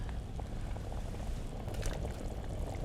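Homemade ramen noodles and broth are ladled into a bowl, giving a soft continuous liquid slosh and pour at close range with no speech.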